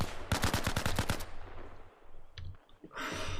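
A quick burst of about eight AK rifle shots rings out in Arma Reforger, sharp and evenly spaced, followed by fainter clicks and a rustle of movement.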